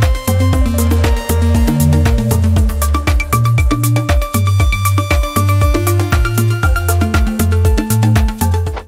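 Organic deep house synth leads ride over a full mix of steady kick, percussion and a bouncing bass line, loud and busy, with bright plucked and melodic tones repeating in a driving groove.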